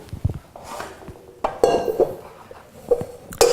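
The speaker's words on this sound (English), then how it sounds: "And now I take the eggs, I will separate them." Eggs being cracked and separated for a cheese soufflé: a series of sharp shell taps and clinks against a bowl, several distinct knocks spread across the moment with small rattles between, close and fairly loud, no talking.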